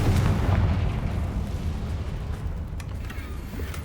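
Confringo blasting spell explosion in Hogwarts Legacy, a deep, rumbling boom loudest at the start that slowly decays into a low roar, with a few faint crackles near the end.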